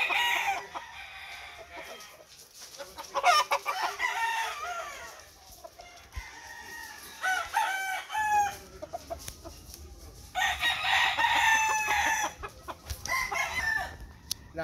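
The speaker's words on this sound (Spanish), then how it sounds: "Es un gallo totalmente bien pesado, un gallo peso pesado." A heavyweight rooster crows loudly and close by, with several long crowing calls and clucking from other fowl in the yard.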